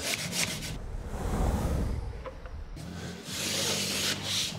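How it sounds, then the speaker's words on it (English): A hand rasp scrapes along the cut edge of plasterboard for a stud wall in a kitchen extension, giving two long, close, gritty bursts of rubbing with a brief lull between them. "I always get the rasp to clean up"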